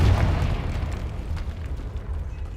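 A Confringo explosive curse cast in Hogwarts Legacy gives a loud, rumbling blast. The low boom rolls on and slowly thins over a few seconds, with no voices.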